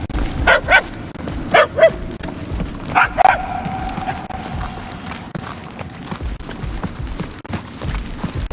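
A dog barks in a game level in Marvel's Guardians of the Galaxy: several sharp barks and yips in the first few seconds, then a fading whine over low rumbling ambience.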